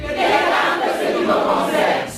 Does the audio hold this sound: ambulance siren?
no